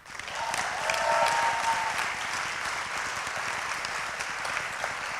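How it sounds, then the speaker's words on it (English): An audience gives a sustained round of applause for event sponsors in a hall, dense clapping swelling briefly and then holding steady to the end, with no speech over it. "So if you could give a big round of applause to these sponsors."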